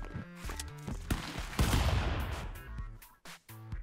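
Gunfire in the 2D stick-figure brawler Stick Fight, with repeated sharp shots and bursts that build into a dense fusillade midway through, then thin out into scattered reports near the end.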